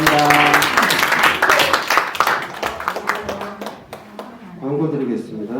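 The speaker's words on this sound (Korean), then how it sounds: "주님께 영광의 박수 드리겠습니다." Clapping from a congregation at a children's Sunday worship service in a church, a dense burst of hands with voices and singing mixed in, thinning near the end before voices rise again.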